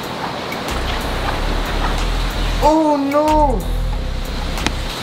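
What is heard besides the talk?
heavy rain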